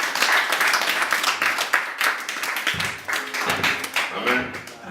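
Church congregation applauding and clapping during a French-language thanksgiving service, a dense sustained patter of hands throughout with voices mixed in underneath.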